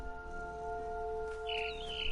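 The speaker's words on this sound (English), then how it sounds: "Then I heard chirping outside my window. It was a barn swallow going back to her nest." A single faint, brief barn swallow chirp, a sweeping twitter near the end, set against a soft steady tonal hum in a quiet indoor scene from What Remains of Edith Finch.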